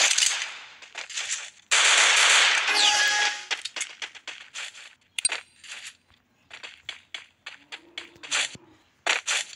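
Dual Vector submachine guns firing in Garena Free Fire, with a sustained loud burst followed by many rapid, clipped shots in quick, irregular clusters, mixed with sharp game effects.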